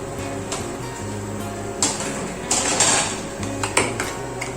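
Whole cumin seeds are stirred in hot oil in a pan, with a utensil scraping and clinking against the metal in repeated short strokes and a faint sizzle underneath.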